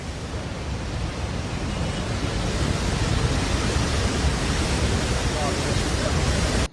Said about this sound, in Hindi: पहाड़ पर पानी और पत्थर के प्रहार को देख